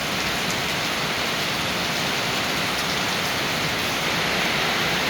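Rain falls hard and constant, water gushing and spattering from a roofline in a full, even roar.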